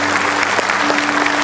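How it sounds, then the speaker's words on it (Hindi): Loud, dense audience applause fills a hall during a Cancer Survivors Day ceremony, continuous clapping close by with a steady hum beneath it and no speech. "एक और जोरदार तालियों के साथ आपका स्वागत, अभिनंदन, आभार"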